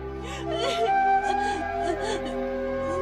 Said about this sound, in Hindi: वहाँ बच्चे के रोने की आवाज आ रही है।